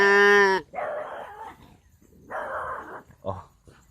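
A deer doe bleat call gives a short, loud, tonal bleat. Nearby dogs answer at once with several barks and whimpers, which come in uneven bursts.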